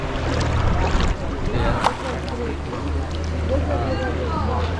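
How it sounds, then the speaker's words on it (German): A V8 engine on a boat near Hong Island, Thailand, running with a steady low rumble throughout, close and loud, while people talk over it. "Guck mal hier, V8 Motor."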